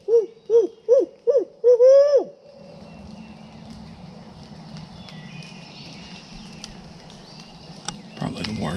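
A series of five hooting calls in quick succession, slightly rising and wavering, a person imitating an owl in Illinois woods during light rain, then quiet outdoor rustling and a brief thump.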